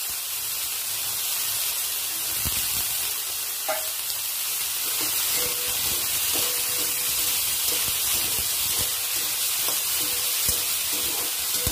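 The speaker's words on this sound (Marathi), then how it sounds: "शेंगदाणे हे आपले चांगल्या प्रकारे तळले" Peanuts fry steadily in hot oil for sabudana khichdi, a continuous broadband sizzle and crackle with scattered small pops and faint clinks, close and even throughout with no talking.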